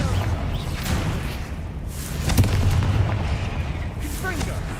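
Confringo blasting spells cast repeatedly in Hogwarts Legacy, dense rumbling bursts and booms layered over continuous game noise, with a sharper impact near the middle and a voice talking under the action.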